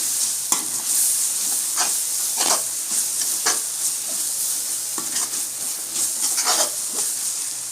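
Spices and masala stirred in a frying pan for egg chapati, a spatula scraping repeatedly over a loud, steady sizzle and hiss, close up, with no voices.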